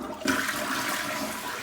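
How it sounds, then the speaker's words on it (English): A hotel bathroom toilet at Wyndham Great Smokies Lodge flushes: a sudden loud rush of water that starts sharply and keeps a steady, full gurgling roar for the rest of the moment, close by, with no talking. "flush this for your toilet fans."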